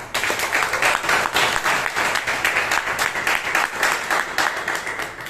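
A room full of Toastmasters members in Bangalore claps together, a thick, continuous round of applause at steady loudness from start to finish, with no talk over it.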